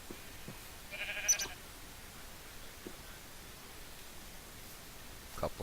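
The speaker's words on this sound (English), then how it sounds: "A couple of sheep investigating things." Sheep in the Minecraft Mo' Creatures game give a short, faint synthetic bleat near the one-second mark, with a few soft clicks scattered across a quiet, noisy background.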